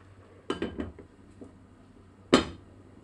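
A cooking pot of rice is covered with its lid: a cluster of light metallic clinks, then a single sharp clank near the end, close by in a quiet room.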